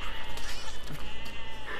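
Sheep bleat in the video game Besiege, a loud, wavering, pulsing bleat that runs through the whole moment, close and dominant over a busy game background.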